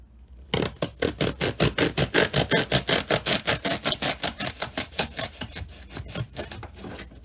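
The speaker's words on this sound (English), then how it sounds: "It's a little tiny hacksaw." A little hacksaw cuts through a foam pool noodle to make discs, with about thirty quick, evenly spaced rasping strokes close up, steady and slightly slowing toward the end.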